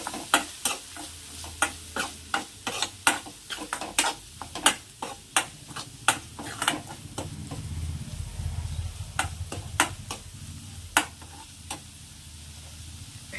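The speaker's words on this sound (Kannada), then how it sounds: "ನಂತರದಲ್ಲಿ ಸಾಂಬಾರು ಪುಡಿ ಹಾಕ್ಕೊಳ್ತಿದ್ದೀನಿ ಸ್ನೇಹಿತರೆ. ಸ್ವಲ್ಪ ಇದೆಲ್ಲವನ್ನು ಚೆನ್ನಾಗಿ ಸ್ವಲ್ಪ ಫ್ರೈ ಮಾಡ್ಕೊಳ್ಳೋಣ." Spices and sambar powder fry in a pan while a spatula stirs them, making sharp, rhythmic scraping clicks over a low, steady sizzle. The strokes are close and regular and thin out toward the end.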